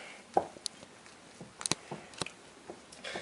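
A spoon stirs naan dough in a bowl, making scattered knocks and soft scrapes against the bowl's sides, close and fairly quiet, with irregular gaps between strokes.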